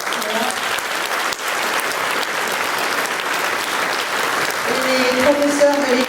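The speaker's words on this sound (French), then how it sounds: "on peut applaudir l'équipe technique qui assure depuis hier" Audience applause for the technical crew at a musical-theatre school show, steady dense clapping lasting throughout, with some faint voices and a tonal hum near the end.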